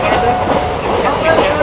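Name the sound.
passenger train running at high speed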